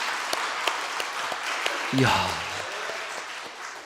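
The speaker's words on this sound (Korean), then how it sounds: "박수 한번 쳐줘요." A church congregation at a Sunday morning worship service breaks into a round of applause, a light, moderate clatter of many hands beneath a short vocal exclamation.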